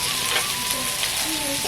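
Spices and masala fry in a pan for a chicken and jackfruit keema curry, making a steady, close, dense hiss and crackle of sizzling, with a faint voice underneath.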